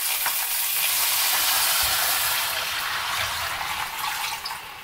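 Water pours steadily into a cooking pot for pork knuckle, a continuous bright splashing rush that stays close and fairly even before easing slightly at the end, with no talking.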